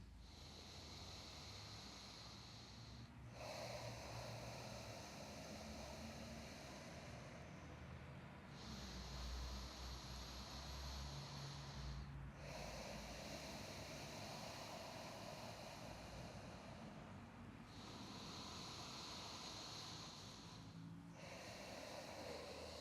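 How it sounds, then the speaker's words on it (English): Slow, deep yoga breaths drawn in and let out in long waves, each inhale and exhale lasting several seconds, close and airy with no talk over them. "Five more deep breaths"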